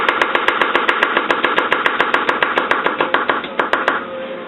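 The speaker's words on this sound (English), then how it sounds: "2 cloves of garlic. Just slice that up thin" A knife chops steadily through thin-sliced garlic cloves on a cutting board, about two dozen crisp, evenly spaced strokes close up, then slows and stops.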